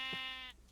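A single sheep bleats close by outdoors on a grassy mound, one sustained wavering bleat lasting about half a second before fading into quiet.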